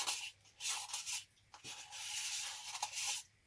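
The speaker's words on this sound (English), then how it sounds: "I'm going to scrape the sides, and I'm going to scrape the stick too" Close, dry scraping strokes on the sides of a jesmonite terrazzo candle holder, several separate rasping passes with brief pauses between them.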